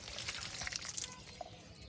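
Water poured from a can onto a potted hibiscus, a soft steady trickle and splash, quiet and close, with no talking.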